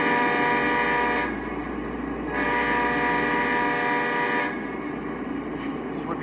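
CSX ES44AC locomotive horn, a model train sound, blowing in two long loud chord blasts separated by a short gap, with a steady low rumble underneath.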